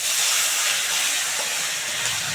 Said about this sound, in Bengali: একটা একটা করে ভেজে নেব। এক পিঠ হয়ে গেছে, এবার উল্টে দিই।